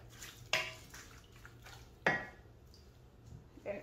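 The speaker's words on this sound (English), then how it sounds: "stir it together" A spoon stirs beef and onion with seasoning cube in a cooking pot, giving two sharp metallic clinks against the pot amid soft scraping and faint shuffling, quiet and close.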